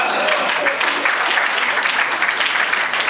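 An audience claps at a late-night board game Q&A show, a dense, loud burst of applause that carries on evenly from start to end.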